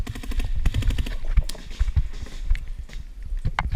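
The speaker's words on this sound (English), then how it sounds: "as I start shooting here, I'll take a shot or two, and then I'll whack my magazine" Paintball marker shots crack out in quick irregular bursts during an outdoor paintball game, mixed with footsteps and movement, fairly close and loud.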